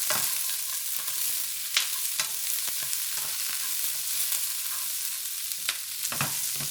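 Shrimp stir fry with celery hisses and sizzles steadily in a pan over high heat, a dense broadband fry with occasional sharper clinks and spatters of stirring, close and alone with no talk.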